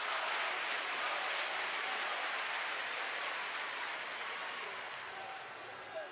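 Crowd noise at a taekwondo semifinal, men's under-80kg, at the 2022 World Championships in Rome: dense, steady wash of applause and cheering from a large arena audience, loud throughout and easing slightly toward the end.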